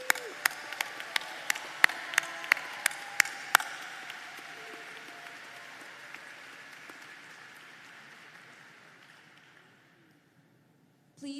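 A graduation diploma ceremony audience applauds for candidates, loud sharp claps at first that gradually thin and fade away to near silence, with a faint sound at the very end.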